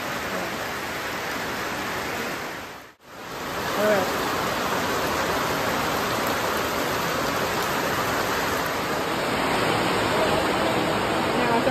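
Heavy rain pours steadily on a monsoon day during the Ganpati festival, a dense continuous hiss that stays loud throughout, broken once by a very brief dropout.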